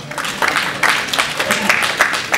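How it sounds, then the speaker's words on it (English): Guests at a marriage blessing ceremony applaud, a short burst of bright, uneven clapping with irregular louder hand claps, under a voice speaking over the crowd. "hand and applaud this great man of God."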